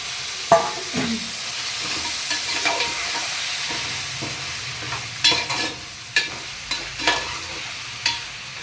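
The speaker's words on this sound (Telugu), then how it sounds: "ఇప్పుడు ఈ మటన్ మనం ఇందులో వేసుకోవాలన్నమాట" Mutton tossed into a pan of hot oil with ginger-garlic paste keeps up a steady fry, with irregular scraping stir strokes and clanks of the spoon cutting through the sizzle at close range.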